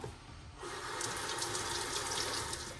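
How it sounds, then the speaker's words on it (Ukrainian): Tap water starts running after a short pause and pours steadily into a sink as tomatoes are washed, a close, even splashing rush that lasts to the end. "Ми це миємо"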